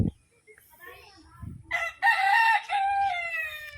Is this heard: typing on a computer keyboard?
no